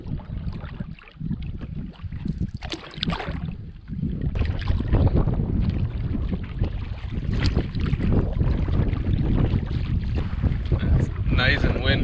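Strong wind buffets the microphone while a solo canoe crosses an open bay on a wilderness trip, a steady loud roar with gusty rumbling and faint water sounds, growing heavier after the first few seconds.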